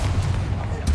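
Confringo blasting-spell explosion in the Hogwarts Legacy video game, a single short burst of booming blast noise, loud and close, heard alone.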